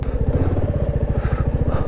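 A motorcycle riding on a mountain road near Gunji, its engine close and loud with a steady pulsing low thump at even rhythm throughout.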